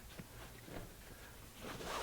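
A short, raspy run of an old zipper on a 1943 Willys MB seat, with a few scratchy bursts, close by and fairly quiet, against faint background noise.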